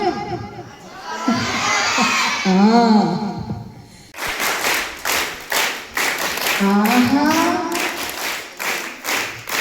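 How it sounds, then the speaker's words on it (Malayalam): Young audience at a school cultural fest clapping, first scattered clapping with children's shouts and chatter, then sharp unison claps in a steady beat that keep time, with voices cheering between them. "എന്ത് രസമായിട്ട് ആ ഒരു താളത്തിന് നിങ്ങൾ ക്ലാപ്പ് ചെയ്ത്"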